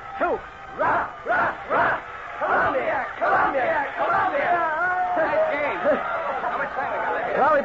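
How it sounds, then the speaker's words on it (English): A small group of college athletes from an old radio drama shouts a rhythmic cheer for the Columbia team. Chanted voices in short, loud bursts turn into looser overlapping yelling and chatter. "let's give the Columbia team a cheer"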